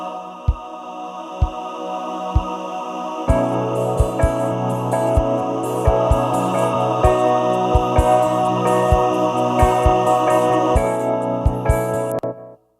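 A full band mix recreating a tape loop vocal sound: a dense sustained chordal wash of layered tones with regular low thumping beats, starting sparse with isolated hits before the full pad swells in, steady and loud throughout.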